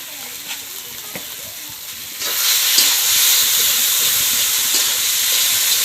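Spices for a Bengali fish curry (macher jhol) sizzle steadily in a pan with salt and turmeric, a soft frying hiss that swells sharply louder partway through and then holds as a dense, continuous crackle.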